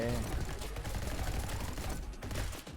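Rapid gunfire bursts in the first-person shooter video game Neon White, sounding dense and continuous under a loud music and effects mix, with no clear talking.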